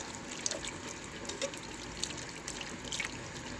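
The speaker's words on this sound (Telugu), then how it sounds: "ఇంకా అర గ్లాస్ వాటర్ పోసుకొని" Half a glass of water is poured into a pressure cooker pot of boti (goat tripe) curry, a soft running trickle with scattered drips and small splashes, fairly quiet and steady.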